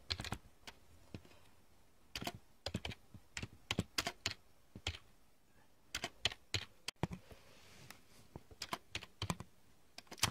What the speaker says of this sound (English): I'm typing this.